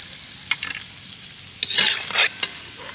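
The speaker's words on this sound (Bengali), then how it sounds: "আবারও একই রকমভাবে পরের ব্যাচটাও ভেজে নেব" Semolina balls (suji bora) frying in hot oil, with a steady low sizzle broken by a few short bursts of stirring and bubbling, close and moderately loud, with no talking.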